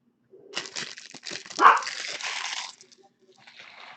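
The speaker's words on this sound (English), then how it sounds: "What's your problem, dog?" A pet dog gives a short burst of barking and whimpering indoors, close and moderately loud, followed by quieter rustling.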